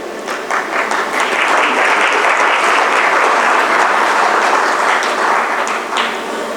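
An audience at a corporate CXO event gives steady, dense applause to a motivational speaker. It is loud and continuous for several seconds and eases off only slightly at the end.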